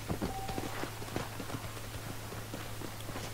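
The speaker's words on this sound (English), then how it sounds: "I will ride my horse though." Horse hooves in Red Dead Redemption 2 clip-clop at a steady riding pace, a close rhythmic series of hoofbeats over a low steady hum.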